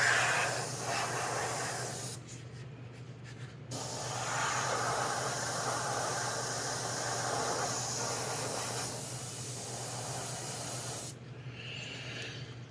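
An airbrush sprays pastel paint onto a figure with a steady, close, airy hiss. It breaks off for a few short pauses and then resumes.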